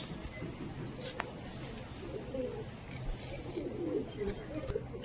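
Faint, low cooing from Madras long-distance flying pigeons murmurs on and off over a soft steady background hiss, with a voice barely present.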